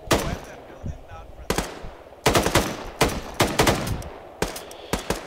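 An M249 machine gun fires in ArmA 3 combat, with loud, close, sharp bursts of rapid shots broken by short pauses, and a voice speaking between volleys.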